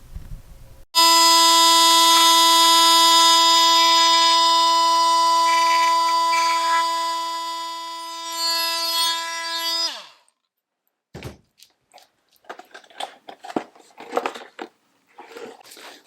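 A power saw cuts a piece out of a fiberglass enclosure, a loud steady whine with strong harmonic tones running about nine seconds, then stopping. Scattered scraping, knocking and rustling of the cut piece being handled follow.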